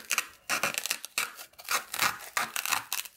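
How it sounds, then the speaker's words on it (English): Repeated rough, scratchy cutting bursts, like a blade sawing through foam, in uneven strokes close by with short pauses between them. "I'm going to now cut out the center of my foam"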